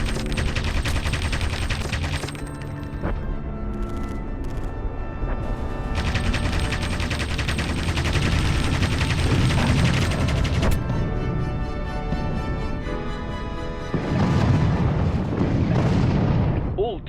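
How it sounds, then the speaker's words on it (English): Anti-aircraft gunfire in the WWII air war game Aviators, heavy continuous booming bursts over a loud engine drone, steady and dense throughout with a louder surge near the end, a voice speaking beneath. "these anti-aircraft guns will blow us out of the sky"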